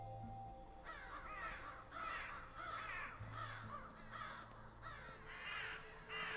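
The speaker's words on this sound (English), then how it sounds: "Damned crows!" Crows caw in the video game Saint Kotar, a run of repeated hoarse calls in a fairly regular rhythm, clear and fairly close over a low ambient drone, with no voices.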